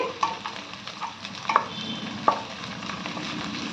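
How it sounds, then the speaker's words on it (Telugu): Chopped onion and mint fry in oil in a pan for a chicken curry, a steady close sizzle broken by a few sharp clinks and scrapes of a spoon stirring, with no voices. "ఉల్లిపాయ పుదీనా మంచిగా వేగాలండి."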